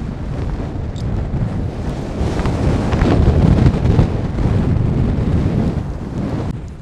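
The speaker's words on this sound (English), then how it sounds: "it seems to be a lot windy here, and it's started to rain a bit" Strong wind buffeting the microphone on a hillside in the Lake District, with light rain starting, loud low rumbling gusts that swell and ease continuously.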